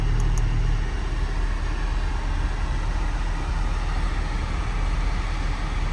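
A 2025 Porsche Boxster GTS 4.0 with six-speed manual and sport exhaust, its engine giving a steady, loud, low rumble while driving, with constant road and wind noise.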